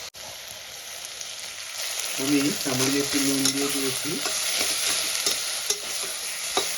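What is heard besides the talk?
onions frying in a pan for tomato rice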